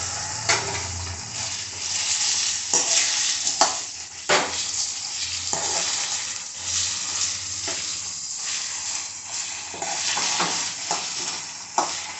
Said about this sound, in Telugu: పన్నీర్ వేసి కొంచెం ఫ్రై చేసుకుందాము ఈ ఆయిల్లో